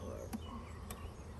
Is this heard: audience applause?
no